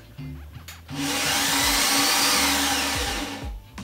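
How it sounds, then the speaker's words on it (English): A BMW E36 M3 starter spins with a high, steady whir that fails to engage the flywheel, running for about three seconds after a brief electrical buzz, loud and close. "Sounds like the starter is not grabbing the flywheel"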